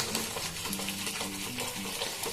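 Hilsa fish curry with salt, turmeric and dried red chilli is stirred and mixed in a pan, soft scraping strokes of a spoon over a quiet, steady sizzle close by.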